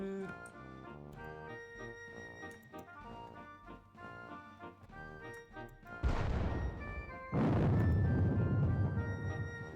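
A musket volley in the turn-based video game WDS Battle of Gettysburg, with game music playing and then two loud bursts of massed gunfire crashing in, one after the other.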